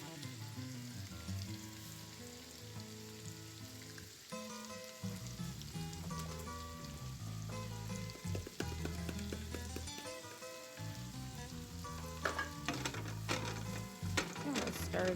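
Pre-cooked leftover roast beef seasoned with cumin, paprika, salt and pepper sizzles steadily in a hot pan for fajitas and is stirred now and then, a continuous frying hiss with tonal background music throughout.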